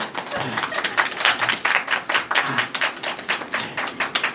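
An audience claps during curtain-call photos after a musical performance, a close, busy patter of many hands with uneven sharp claps, a voice occasionally heard under it.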